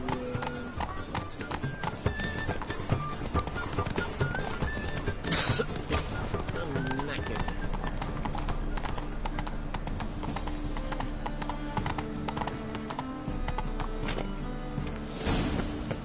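Roach the horse gallops in The Witcher 3 video game, continuous fast hoofbeats with a whinny, layered under game music and intermittent spoken voices.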